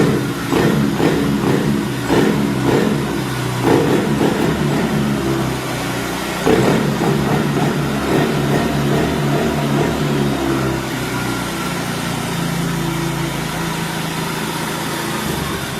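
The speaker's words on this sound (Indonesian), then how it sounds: "kita starter aja nih, starter ya." Motorcycle engine, just repaired at a workshop, is started and revved loudly and close, rising in uneven bursts before settling into a steady high idle.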